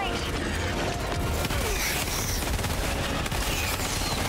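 Dense gunfire from the video game Helldivers 2 rattles continuously amid a loud wash of battle noise, with rapid bursts and crashes layered throughout.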